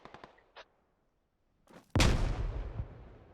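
Grenades thrown into a compound in a tactical video game: a few faint clicks and thuds, then one sharp, loud blast with a rumbling decay.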